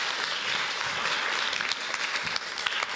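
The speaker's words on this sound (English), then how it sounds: "Give them a warm applause" Warm audience applause at a Q&A event welcoming a film director and a journalist onto the stage, a dense, steady wash of many hands clapping for three seconds with scattered sharper claps.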